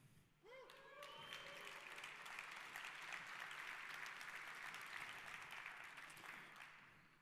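An audience at a tech talk on loading google.com claps after a brief voice. The applause is steady and fairly even, with crisp individual claps in a moderate-sized room, and fades gently near the end.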